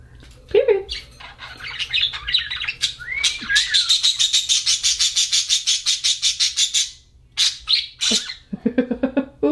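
Pet birds, evidently parrots, squawk and chirp up close in loud, rapid bursts, including a long run of rhythmic repeated calls, with a person's voice occasionally underneath.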